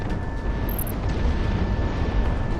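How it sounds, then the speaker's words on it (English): A missile launching from an F-4 jet fighter in the combat flight game Project Wingman, a sustained loud rushing roar with a brief bright high tone near the start, continuous throughout. "Missile shot off."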